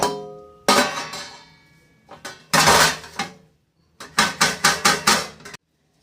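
A steamed rice-flour cake in a cooker being tapped to test it: loud, knocking taps, a few scattered strikes at first, then a quick even run of five taps before stopping.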